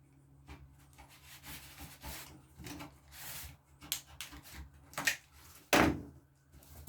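Hand reaming of a bolt hole in wood with a knife: soft scraping and rubbing strokes, irregular and close, building to a louder rasping scrape near the end, with no talk.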